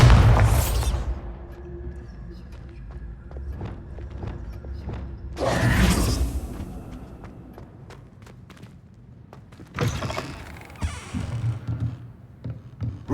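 Bombarda blasting spell cast in the Hogwarts Legacy video game: three loud, booming blasts spaced several seconds apart, each a broad explosive burst that fades into a quieter rumbling bed between them.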